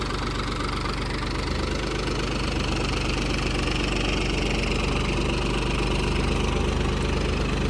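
A tractor engine runs continuously in a sandy field, a loud, steady, rough idle-like rumble with a knocking throb that holds at constant level throughout.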